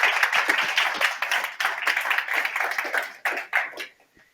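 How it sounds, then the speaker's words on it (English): Warm audience applause for a speaker at an awards ceremony, a moderately close ripple of individual claps that thins out and trails off into a few scattered final claps. "Let's give her a warm round of applause"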